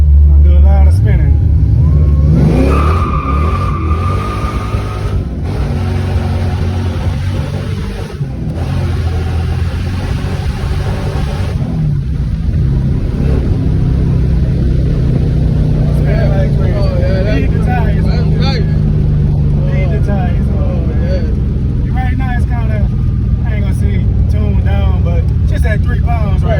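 A boosted car's engine revs hard while it spins, a loud sustained roar with rising and falling pitch near the microphone, and people talk over it throughout.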